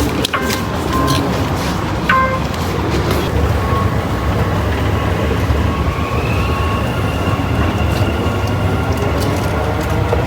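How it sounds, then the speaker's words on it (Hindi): A Dubai Metro train rumbles steadily along the track with loud, continuous rolling noise inside the carriage, scattered clanks and a faint rising whine partway through. "मैं मेट्रो बोर्ड करने लगा हूँ और मुझे शोभा रियल्टी वाले एक स्टॉप पे उतरना है"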